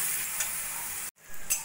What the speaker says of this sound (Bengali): অল্প করে জল দিয়ে ভালো করে মশলাটা